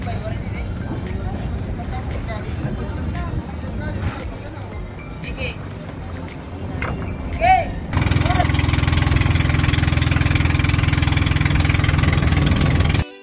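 A steady boat engine drone starts suddenly partway through and runs loud and constant to the end, after a stretch of mixed background noise and clatter, on a crossing in Northern Samar, Philippines.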